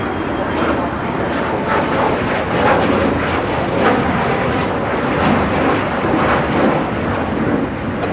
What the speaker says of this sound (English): That's a Gulfstream 4 taking off.